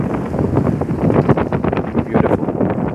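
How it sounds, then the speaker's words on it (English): Strong afternoon sea breeze at Subic Bay buffets the microphone in a continuous loud rumble, gusting and roaring throughout with no other clear sounds. "hear me well, in spite of this strong breeze."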